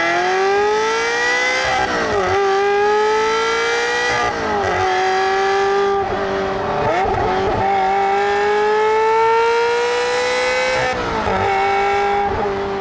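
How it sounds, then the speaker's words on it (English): A Ferrari 355 with an aftermarket exhaust revs hard and close, its high-pitched wail climbing through repeated sweeps with brief dips between pulls, loud and alone with no talking. "What I want the Scuderia to sound like is like a 355 with an exhaust on it. And this is what one of those sounds like."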